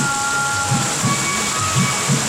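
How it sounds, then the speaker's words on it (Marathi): Heavy monsoon rain pours steadily and loudly, a dense unbroken roar with low rumbles swelling now and then, heard from shelter at a roadside hotel during a long cycling journey. "एकदम खतरनाकमध्ये असा पाऊस चालू झाला आहे"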